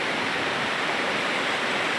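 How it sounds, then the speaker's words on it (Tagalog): Powerful rushing river water at Majayjay river in Laguna, a steady broadband roar with no breaks, loud and close throughout. "sobrang lakas ng tubig ngayon"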